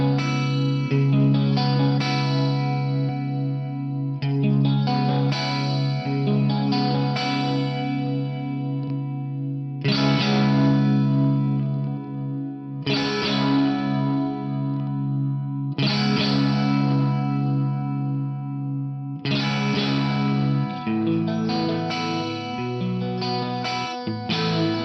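Sustained distorted electric guitar chords run through a chorus effect with stereo spread set to zero, leaving a centered shimmer. Long held chords change every few seconds, loud and steady, with no voices.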